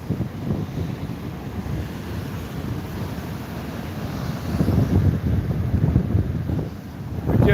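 Strong outdoor wind buffeting the microphone, a steady low rumble that swells louder toward the end, with no clear voices.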